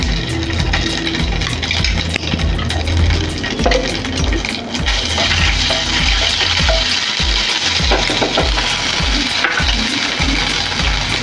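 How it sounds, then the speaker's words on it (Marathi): Cumin and ginger-garlic paste fry in a hot pan with a loud, dense, continuous sizzle and crackle, punctuated by occasional sharp spits and faint stirring. "जिरे टाकल्यानंतर आपण इथं आलं लसूण पेस्ट टाकते"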